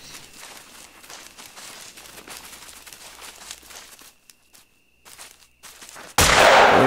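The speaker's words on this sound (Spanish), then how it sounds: "Ya escucho muchas pisadas" Many footsteps crunching through the wilderness in The Hunter: Call of the Wild, a busy shuffling patter that is fairly faint, thins out to near silence, then ends in a sudden loud burst of noise.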